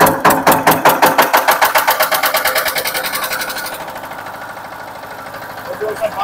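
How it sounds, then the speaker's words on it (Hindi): A diesel generator, hand-crank started, chugs with rapid rhythmic knocking pulses that settle into a steadier, quieter running rumble, loud and close, with a voice talking over it. "ये हैंडल से भी स्टार्ट होगा"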